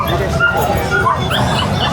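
A long-coated Chihuahua at a pet market, yipping and whimpering up close in short high cries, with people talking nearby at the same time.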